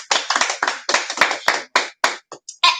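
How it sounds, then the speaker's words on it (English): Applause for fourteen children at a school assembly, a small group clapping in uneven bursts that start and stop repeatedly, close and fairly loud, with no talk over it. "let's give these 14 children a very big Zaytouna round of applause"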